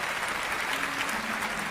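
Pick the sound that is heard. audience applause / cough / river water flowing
audience applause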